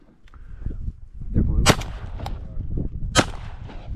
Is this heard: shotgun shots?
yes